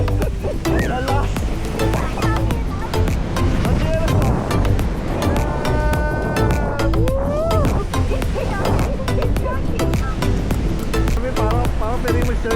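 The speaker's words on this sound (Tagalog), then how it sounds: "ang lakas ng alon" Strong ocean surf rolling onto a beach at a resort in San Felipe, Zambales, as a loud, continuous wash of waves with wind buffeting the microphone, and people talking throughout.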